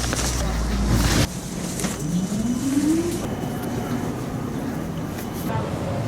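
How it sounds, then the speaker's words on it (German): A tram riding through the city of Bern gives a steady rumbling ride noise, with a rising electric motor whine in the middle and a thump near the start. "Ich nehme das Tram."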